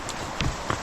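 A horse walks along a mountain trail by a river, its hooves landing as a few scattered dull thuds against a steady wash of outdoor noise.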